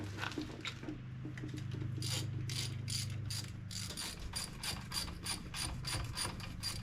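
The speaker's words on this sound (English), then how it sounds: "Gonna run our slide pins back in." A ratchet clicks in quick, even bursts while turning the 9mm slide pins back into the brakes of a 2008 Ford Escape. Close and fairly quiet, with no talk.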